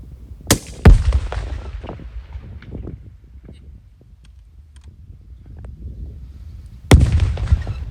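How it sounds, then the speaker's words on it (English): Explosions from a sound effects recording session: a pair of sharp cracking blasts near the start and another near the end, each trailing a rumbling tail with a strange whistly squeak, loud and without talk. "They have this strange whistly squeak thing going on."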